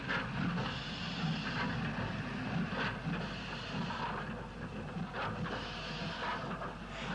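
Two-six-four steam tank locomotive number 55 hauling a goods train into a yard, heard as a faint, steady rumble and hiss with soft periodic chuffs.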